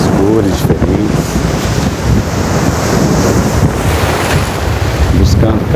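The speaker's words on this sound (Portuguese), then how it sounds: "na costa, escuta o mar" Sea waves wash against a rocky coastline in a continuous loud roar of surf, mixed with gusty wind buffeting the microphone.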